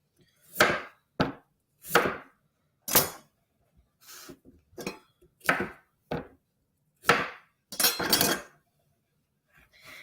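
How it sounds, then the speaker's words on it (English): A knife cuts the ends off peeled sweet potatoes on a board in about ten separate sharp chops, close and distinct, with short silences between strokes. "I'm going to go ahead and cut the ends off of my sweet potatoes."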